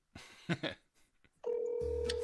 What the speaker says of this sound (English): Can you guys hear the ringing?